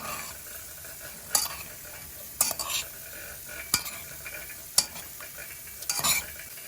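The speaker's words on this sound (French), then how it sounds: "Maintenant, on mélange." Prunes being stirred with sugar in a pot, a spoon knocking and scraping against the metal in sharp separate strokes every second or so over a faint simmer, close up, no speech.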